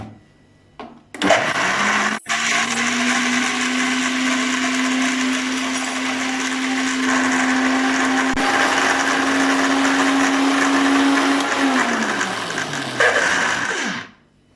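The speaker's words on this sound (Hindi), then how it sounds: "अब इसे 2 मिनट के लिए ब्लेंड करेंगे।" A kitchen blender whirs loudly and steadily for about ten seconds while blending mint margarita mix with lemon juice, sugar and black salt, then winds down to silence.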